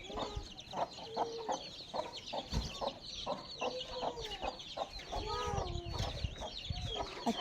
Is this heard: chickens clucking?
yes